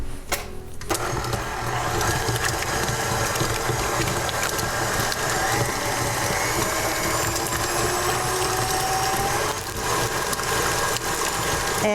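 An electric mixer creaming a cinnamon and vanilla mixture for peach pecan muffins, a loud continuous motor whir and rattle that starts abruptly and runs steadily throughout.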